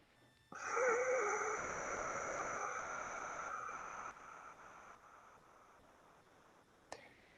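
A steady breathy hiss of exhalation through the nose with the mouth closed, sustained for several seconds and slowly fading, ending with a faint click.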